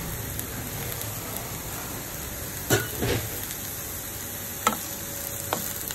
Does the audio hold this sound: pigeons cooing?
no